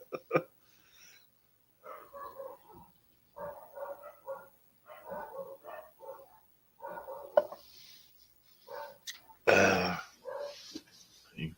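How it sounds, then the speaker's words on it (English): Dogs bark at a distance in a domestic setting, a series of short yaps and bow-wows scattered across the stretch, with one louder, harsher burst near the end. "You can probably hear my dogs going off."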